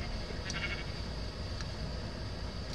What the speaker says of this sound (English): Yeah, it's a sheep.